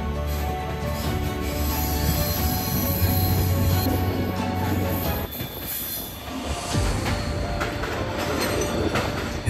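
The Vistadome glass-roofed train from Visakhapatnam to Araku Valley in the Eastern Ghats rumbles along loud and close, with steady wheel noise and high-pitched rail squeal throughout.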